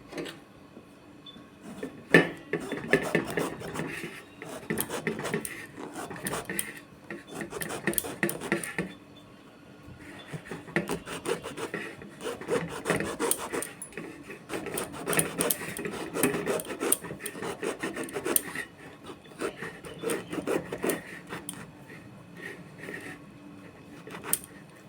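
A knife cuts and scrapes through the thick rind along the side of a pomelo in a series of rough, rasping strokes, quiet and close, coming in bursts separated by short pauses.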